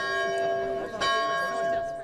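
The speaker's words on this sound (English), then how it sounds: "This bell used to be in the bell tower here at the Central Mine Methodist Church" The bell of Central Mine Methodist Church, a historic Copper Country church, rings once with a clear sustained tone and a fresh strike near the middle, its steady overtones hanging on throughout.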